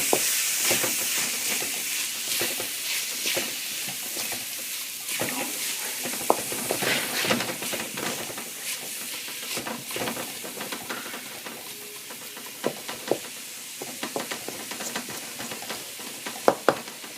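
Chopped tomatoes sizzling in a pan of prawn ghassi, a soft steady fry with scattered crackles and spoon clicks, close and quiet with no talk.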